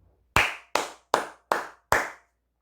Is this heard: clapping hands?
yes